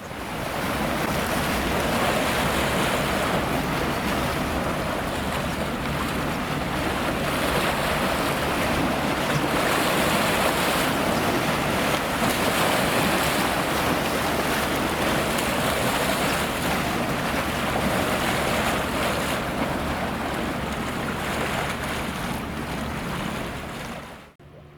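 Waves stirred up by a passing ferry wash and surge continuously against the shore in old Ventspils, loud and close, mixed with steady wind buffeting the microphone and no talking.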